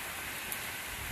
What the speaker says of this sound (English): the rain was getting to be a little bit too much